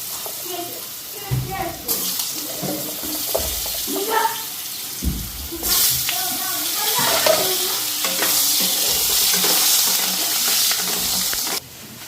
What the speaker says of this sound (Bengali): আলুটা ফ্রাই করে নিই।